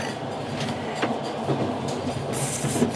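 A Trans-Siberian Railway passenger train rumbles steadily from inside the carriage, with a continuous low roll and faint rhythmic wheel clatter throughout.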